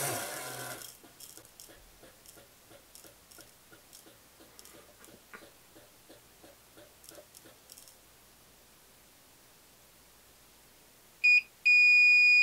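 A Hornady Auto Charge powder dispenser ticks and clicks in a steady rapid rhythm for several seconds, then goes quiet before a few sharp electronic beeps sound near the end, with no one talking.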